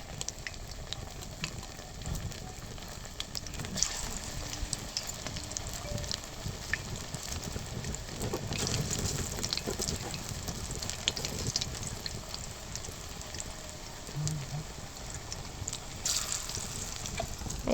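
Cauliflower pakoras frying in hot oil give off a steady, moderate sizzle that runs unbroken, with faint bubbling and no voices.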